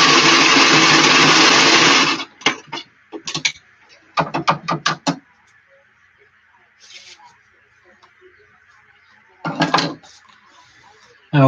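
A sewing machine stitches a flat cap seam in a loud sustained run, then stops and restarts in short stuttering bursts separated by quiet pauses, close and clear.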